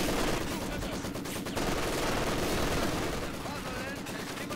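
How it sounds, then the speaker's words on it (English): Maxim machine gun firing in Company of Heroes 2, a dense, continuous rattle of rapid automatic fire mixed with other battlefield gunfire, loud and sustained throughout. "Maxim sets up on the MG, getting the suppression in first"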